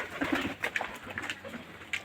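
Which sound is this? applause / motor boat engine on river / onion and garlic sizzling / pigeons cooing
pigeons cooing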